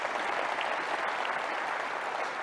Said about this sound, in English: Yeah, you can clap to that